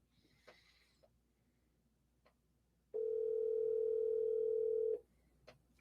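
A steady telephone dial tone sounds loud and unbroken for about two seconds while a call is being placed, with quiet room noise and faint clicks before and after.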